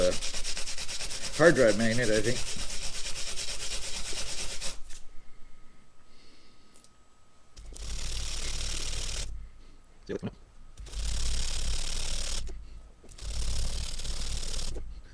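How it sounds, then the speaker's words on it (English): Scratchy sanding of a small Holley NH Model T carburetor part held on a magnet, in repeated bursts, each a few seconds long, with a brief stretch of talk at the start. "so I can hold it better when I'm sanding it"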